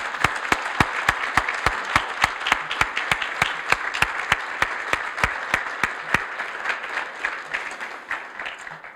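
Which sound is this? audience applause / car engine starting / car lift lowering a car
audience applause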